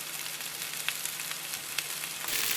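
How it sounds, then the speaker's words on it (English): Rice frying in a pan with seasoning and parsley, made for a shrimp and broccoli stir fry: a close, steady hiss and crackle of sizzling that runs throughout with no talking. "You can hear that rice frying."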